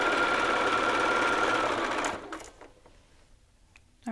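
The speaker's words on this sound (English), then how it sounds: "continue sewing along your dart legs" A sewing machine runs steadily for about two seconds stitching along dart legs in a garment sew-along, then stops abruptly, leaving a few faint clicks and quiet handling.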